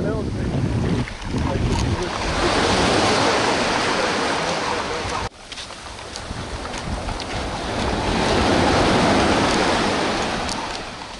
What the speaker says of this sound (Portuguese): Uma bela praia, né?